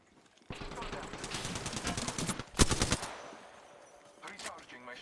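Rapid automatic gunfire in Apex Legends, dense bursts of close shots that peak with a sharp loud volley midway, then fade into scattered distant reports, with a faint voice underneath.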